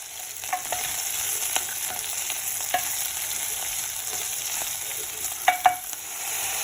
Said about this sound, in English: add in your chopped potatoes and give this a good stir